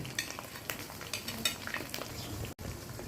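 Ground spices fry in hot oil in a pan while being stirred, giving a steady low sizzle with repeated scraping and clinking strokes of the spoon, close and fairly quiet.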